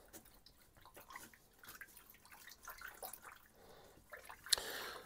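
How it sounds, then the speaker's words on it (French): Fresh yeast is stirred by hand into water for Neapolitan pizza dough, giving soft, quiet liquid swishes and drips close by, ending in a brief brighter splash. "on prend le temps de bien délayer la levure fraîche dans l'eau"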